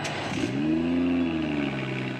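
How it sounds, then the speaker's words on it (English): A BMW B58 engine revs steadily, a smooth loud exhaust drone held for about two seconds with a steady rising tone, no talk over it. "let's not forget about the glorious exhaust note from this engine"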